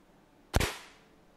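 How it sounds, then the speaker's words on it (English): A 10-stage coilgun charged above 400 volts fires a metal projectile through plywood: a single sharp, loud crack with a short decaying tail, alone against faint background hiss. "I add the metal projectile and fire."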